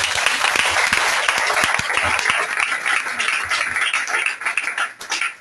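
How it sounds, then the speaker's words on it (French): A church congregation applauds together, a dense, loud, sustained wave of clapping that begins to thin out and trail off near the end. "Est-ce qu'on peut acclamer pour ça?"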